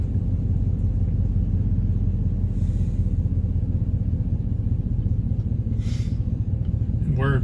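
A 2018 GMC Savana rental moving truck's engine rumbles low and constant from inside the cab while driving, with faint passing hiss and a brief squeak at the end.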